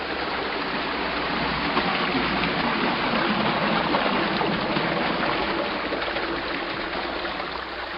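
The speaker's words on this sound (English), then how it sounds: "When the gates are open, the water pours in." Water pours steadily into a canal lock through open gates on the Morris Canal near Mansfield, New Jersey, a constant, full rushing wash that holds at an even level from start to finish.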